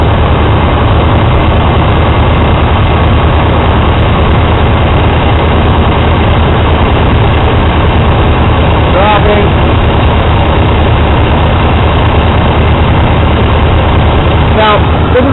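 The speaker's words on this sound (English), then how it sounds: "Compressor kicked on." Car air-conditioning compressor, charged with R290 propane refrigerant, running with the engine at a low idle around 1200 RPM: a steady, continuous low hum and drone with little change, with brief speech-like sounds in the background.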